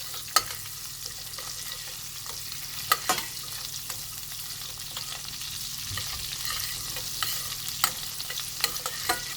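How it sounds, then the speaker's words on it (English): Garlic is stirred into melting butter in a pan along with chili flakes and cumin seeds, giving a soft, steady sizzle broken by occasional scraping knocks of the spoon against the pan, close and without talk. "garlic, mix it till the butter melts."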